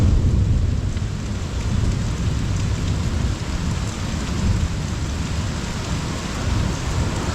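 Steady heavy rain falling during an East Texas thunderstorm, with a low, continuous rumble of distant thunder rolling underneath the downpour throughout.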